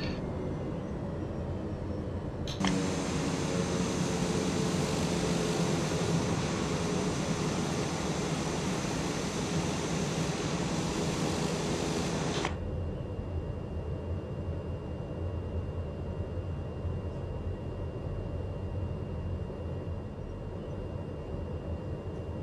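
A TBM930 turboprop taxis in Microsoft Flight Simulator, its engine a steady, broad mechanical drone. The sound swells louder and brighter for about ten seconds, then drops back to a lower, even hum with a thin whine on top.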